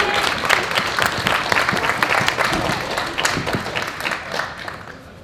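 Audience applause at an amateur boxing bout after a judges' decision, a dense, steady burst of many hands clapping that holds for several seconds and slowly eases.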